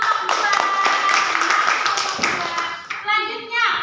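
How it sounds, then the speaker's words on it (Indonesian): A classroom group of children applauds their fellow group after a presentation, a short burst of brisk, fairly close clapping with children's voices mixed in, tapering off near the end. "tepuk tangan untuk kelompok 2"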